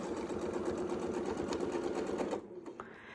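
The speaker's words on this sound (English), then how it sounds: "now I can just sew." A sewing machine stitching a quilt along a straight-line template, running in a steady fast whirring rhythm before slowing and stopping near the end, with faint handling noises afterward.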